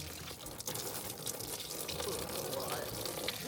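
Engine coolant drains from a school bus heater during removal in a skoolie conversion, making a steady close splashing, trickling pour with faint background talk.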